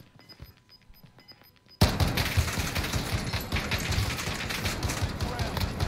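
Sustained burst of gunfire in Call of Duty Warzone trios match, loud and dense after a quiet start with faint background talk, continuing as rapid overlapping shots.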